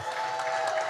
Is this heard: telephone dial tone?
no